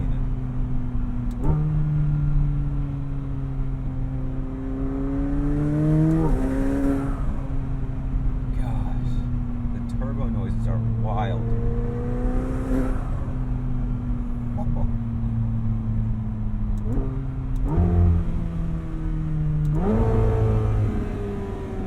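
A 2020 McLaren 720S Spider convertible supercar engine revs loudly and repeatedly, rising and falling through several pulls close up, with a voice talking briefly over it.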